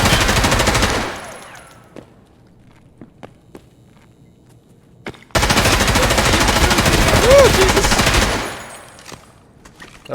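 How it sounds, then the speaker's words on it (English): Bursts of automatic M4 rifle fire in the shooter game Escape From Tarkov, a loud sustained burst opening the clip, sparse shots and footsteps in between, then another long heavy burst. "Somebody's got an M4 out there."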